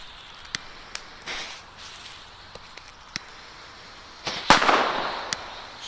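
Chinese Komet firecrackers burst outdoors on a New Year's Eve test, several sharp isolated cracks spaced apart, then a louder, fuller bang followed by a crackling tail.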